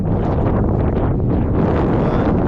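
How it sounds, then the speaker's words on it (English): Strong wind buffeting the microphone, a loud continuous rumbling roar that surges and dips slightly, with no voices. "It's getting windy right now."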